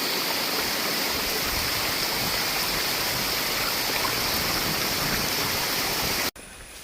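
The Thamirabarani river rushes beside a mountain trail in a loud, steady broadband roar of flowing water, close and continuous until it cuts off abruptly near the end.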